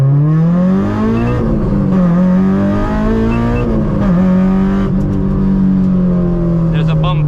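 A Honda S2000 AP2 fitted with a Tomei exhaust pulls hard with the windows closed, its engine note climbing steadily and loudly in pitch through the gears, heard from inside the cabin.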